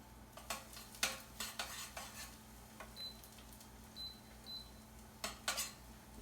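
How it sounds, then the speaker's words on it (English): Metal scrapes and taps against a pan in irregular strokes as cilantro lime quinoa is stirred, with a soft steady sizzle underneath and a few faint high beeps. "So we're going to give it a quick stir here."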